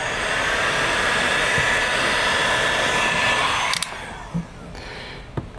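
Steady blowing roar of a heat gun post-heating vinyl on the rear door skin of a 1996-2002 Toyota 4Runner, running loud and continuous before cutting off, followed by a few faint clicks.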